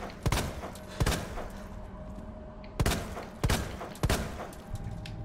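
Resident Evil 2 gunshots: about six sharp, separate shots spaced irregularly over a few seconds, each punching clearly above a quiet background hum.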